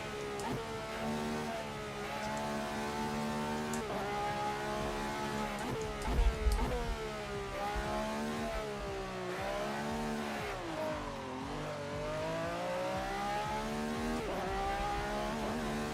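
A race car engine in the video game Assetto Corsa drones steadily throughout, its pitch rising and falling with gear changes and revving on a track, loud and continuous with no talk.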